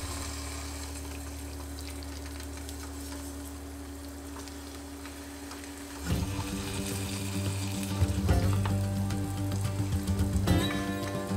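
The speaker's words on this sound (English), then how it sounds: "Put in a tablespoon of butter and fry the eggs and see how it goes." Eggs frying in a tablespoon of butter in an anodized aluminum pan over medium-low heat, a steady crackling sizzle that jumps louder partway through and keeps popping and spitting.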